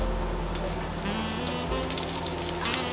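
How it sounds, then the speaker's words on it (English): Parsnips coated in cornmeal sizzle and fry steadily in hot oil, a dense, continuous crackling hiss close by with a low background hum, no talking. "So I'm going to put those in the heated oil and it should give a really satisfying sizzle noise."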